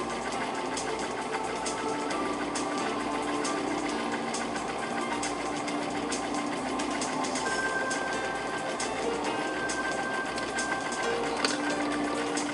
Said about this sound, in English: Serge end to end once more.